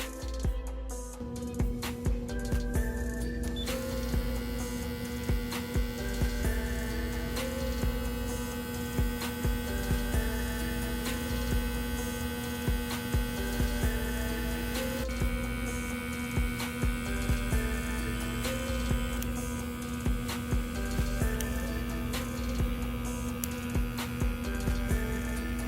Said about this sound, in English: I'm gonna actually let you guys hear how the clipper sounds, how it works, starting off in its on state.